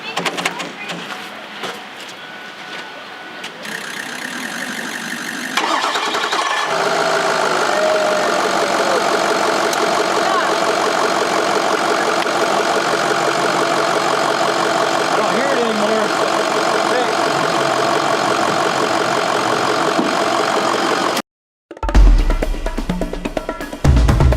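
A car engine cranks and catches, then settles into a steady, loud idle with a faint knocking rhythm before a brief cutoff and clatter.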